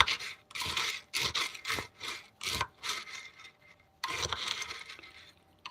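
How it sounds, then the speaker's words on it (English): Coffee beans are stirred while roasting in a popcorn maker, giving repeated dry rattling and scraping strokes, close and steady, each lasting about half a second, with a short pause before the last burst. "I'm just stirring it too, because we don't want the bottom to get really, really hot either"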